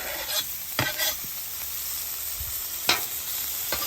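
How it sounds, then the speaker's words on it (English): Pork sizzles steadily on a hot Blackstone griddle with tallow, with a few sharp scraping and stirring clicks standing out over the constant frying hiss. "I'm just gonna start frying this up a little bit."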